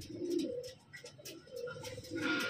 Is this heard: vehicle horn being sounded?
no